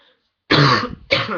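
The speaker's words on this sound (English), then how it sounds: "Excuse me, got a cough." Two short, harsh coughs close to the microphone after a moment of near silence, sounding like throat clearing.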